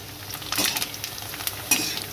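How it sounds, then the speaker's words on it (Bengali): Papad (bat papad) frying in hot oil in a village kitchen, a soft steady sizzle broken by brief bursts of crackle and the scrape of stirring, close and moderately loud. "আর ভেজে নেব কয়েকটা পাঁপড় ভাজা।"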